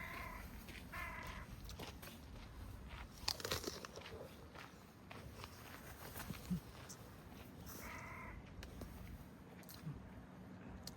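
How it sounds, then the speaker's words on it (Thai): Crunchy bites into fresh red apples picked by a roadside, giving several sharp crisp crunches spread across the clip amid soft chewing and handling noise, with someone speaking between bites. "กัดนี่ดังกรอบเลยค่ะ"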